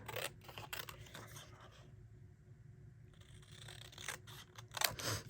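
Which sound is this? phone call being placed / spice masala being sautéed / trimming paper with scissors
trimming paper with scissors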